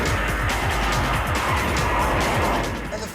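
A powerful sports car engine drives hard, a car reaching 60 in 4.5 seconds and topping out at 190, its loud, steady roar filling the whole stretch with a rumbling, rising tone and no talk over it.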